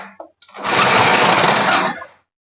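An electric kitchen machine chops mince meat with a steady, loud whirring burst of about a second and a half that starts and stops abruptly, with short quiet stretches before and after.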